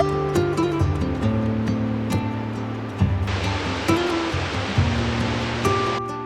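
Wallaman Falls, a tall single-drop waterfall in Australia, roars as a steady broadband wash of falling water, heard loud and continuous from nearby with some low tonal hum mixed in.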